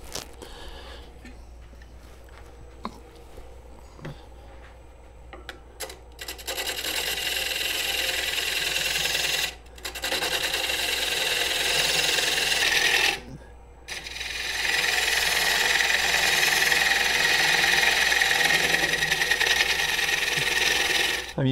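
A tool scrapes a wood bowl spinning on a lathe in a pull cut, making a steady, loud rasping hiss. It builds after a quieter start and drops out twice for short pauses.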